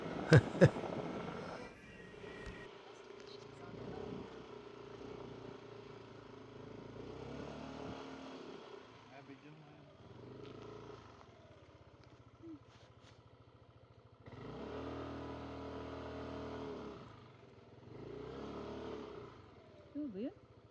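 A motorcycle engine idles and revs in uneven surges, rising and falling over the stretch, with a couple of sharp knocks at the start and end.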